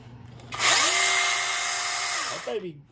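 A battery chainsaw with an automatic oiler whirs up to a steady high-pitched motor whine, runs evenly for about two seconds, then spins down, close and loud with no cutting.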